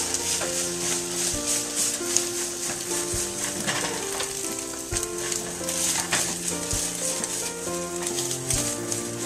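Omelet eggs sizzle in a frying pan with a continuous close crackle and occasional stirring or scraping, while background music plays underneath throughout.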